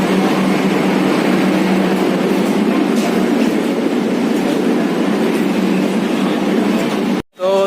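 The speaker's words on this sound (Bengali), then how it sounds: "তো এখন হচ্ছে আমার পিছনে মেট্রো" A Kolkata metro train at Dum Dum Junction gives a continuous close rumble and rattle of rail cars, steady for several seconds before an abrupt cut near the end.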